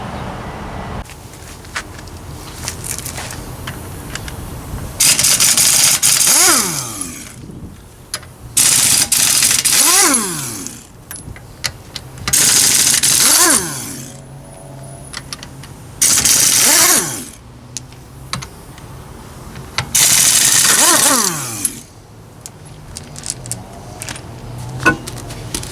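Working on the wheels of a DIY travel trailer, a power tool fires in five or six loud, rattling bursts of a few seconds each. Quieter clanks and handling noises fill the gaps between them.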